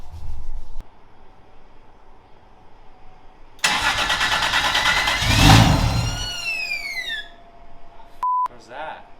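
A 2JZ-swapped BMW E36 cranks and fires into a loud, rough rev that settles toward idle, with a quiet low hum before it and a brief tone near the end.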